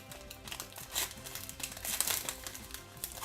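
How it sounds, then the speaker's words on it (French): Pokémon card booster pack from a Lucario GX box being cut open with scissors, close crinkling of foil wrapper and paper with scattered snips and rustles over about three seconds, no talk. "je les ouvre avec un ciseau, hein, parce que j'ai peur de chaque fois de abîmer les cartes"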